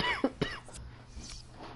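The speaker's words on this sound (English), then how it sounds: "I'm coughing because I had too much loud." A man coughs twice in quick succession, close and fairly loud, followed by a quieter throat clearing and a faint breathy tail.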